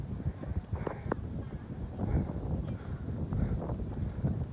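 Steady wind blows outdoors around a rice field under dark, overcast skies, a broad rushing roar with gusty swells, loud and continuous with no speech.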